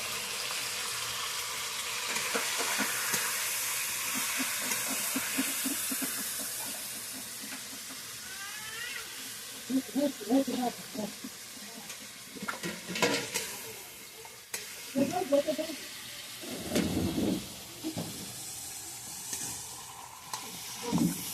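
Ginger, garlic and green chili paste frying in a hot pan, a steady sizzle with scraping stir strokes growing louder and more uneven toward the end, with no talking.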